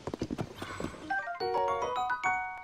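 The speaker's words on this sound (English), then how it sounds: "Come back here, dumb horse." A horse in a Nintendo video game gallops with a quick run of clip-clopping hoofbeats, then gives a drawn-out tonal whinny, loud and close with no talking.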